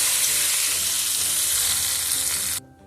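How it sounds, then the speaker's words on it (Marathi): Hot oil tadka poured into a Maharashtrian tomato thecha gives a loud, close, continuous sizzle that fills almost the whole moment, then cuts off abruptly near the end. "आता या ठेच्याला तडका देण्यासाठी एका पॅन मध्ये कडकडीत गरम तेल करायचं आणि या टमाटरच्या ठेच्यात"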